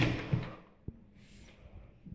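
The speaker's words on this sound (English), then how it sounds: "Let me close this door." A house's front door swings shut with a single dull thud, close by, after some faint rustling in an otherwise quiet indoor space.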